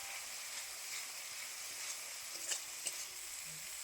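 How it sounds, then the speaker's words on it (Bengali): Dried chilli and cumin paste fries with spices in oil, giving a quiet, steady sizzle with a couple of faint stirring clinks, heard alone. "অল্প জল দিয়ে খুব ভালো করে মশলা কষিয়ে নেব।"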